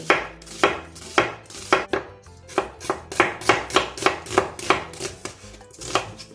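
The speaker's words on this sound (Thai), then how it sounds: "เราจะมาซอยหอมใหญ่เตรียมไว้นะคะ" A knife thinly slicing an onion on a cutting board, about a dozen crisp, close chops in a quick, fairly even rhythm with no talk.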